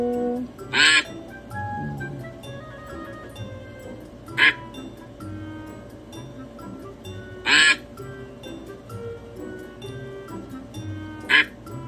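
Ducks quacking in four loud, widely spaced bursts of nasal calls over a steady low background murmur.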